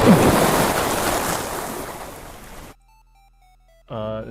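Simulated water rushes through pipes in a video game, a loud, broad, steady whoosh that fades slightly before cutting off abruptly, followed by a few soft electronic tones and a brief buzzy sound.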